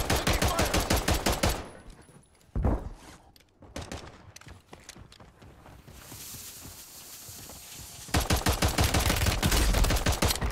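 Rapid bursts of pistol gunfire in the battle-royale shooter Warzone, loud and close, firing in quick rhythmic strings at the start and end with scattered shots and footsteps in between.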